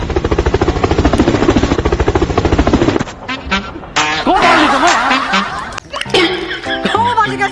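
A voice imitates a helicopter with a loud, rapid, rhythmic chopping drone for about three seconds, then gives way to chuckles, laughter and talk.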